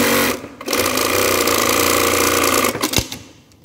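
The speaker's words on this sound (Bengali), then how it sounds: "ওকে, আরেকবার সুইং করি, একই অবস্থায়।" A sewing machine stitches in one loud, continuous run of rapid mechanical clatter, starting after a short pause and stopping with a final clunk.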